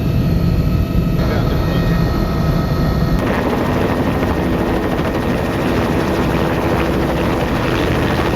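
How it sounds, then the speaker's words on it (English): A helicopter flies over wheat fields with a loud, steady rotor and engine roar that fills the whole stretch, heard close from on board. "But from a helicopter."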